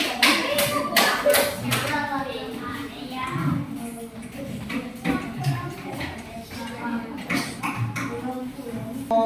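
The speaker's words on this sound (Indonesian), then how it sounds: "silakan tepuk tangan buat kelompok PAUD" Children in a classroom clap for a group presenting a food-chain diorama, sharp irregular hand claps and taps mixed with kids' chatter and shuffling throughout.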